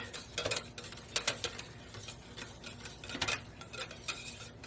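A whisk scrapes and clicks against the sides of a crock pot while stirring thick hot process liquid soap, a quiet irregular tapping and swishing rhythm up close.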